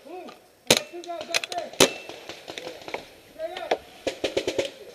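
Sharp gunshot-like pops from an open-play paintball or airsoft game fire in scattered bursts, with two loud cracks early and a rapid string of shots near the end, while players shout over the action.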